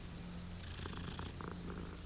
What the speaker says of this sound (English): I think the cats in this game look kind of weird.